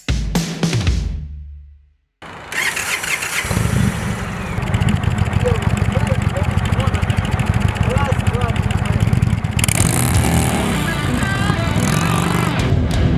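An Indian motorcycle engine fires up after a short pause and runs with a loud, rough, throbbing rumble close by, revving slightly toward the end.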